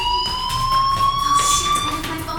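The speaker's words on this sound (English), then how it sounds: "Hey, do you hear that fire alarm? That means you should be outside." A school fire alarm rings in the video game Life is Strange as a steady, loud electronic tone with a sustained pitch and harmonics, running continuously with no talk over it.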